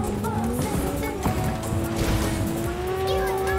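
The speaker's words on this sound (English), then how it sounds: "This is a Coyote all-wheel drive." A Coyote all-wheel-drive car in Cyberpunk 2077 roars along with a loud, steady engine drone as its tires squeal in long rising whines, close and continuous throughout.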